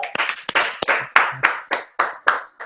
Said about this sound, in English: Come on, y'all, give this man a round of applause.